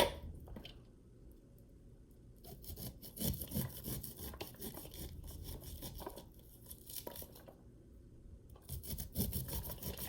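A knife cuts raw corn kernels off the cob in repeated rasping, scraping strokes, with soft, fairly quiet rubbing bursts in an irregular rhythm.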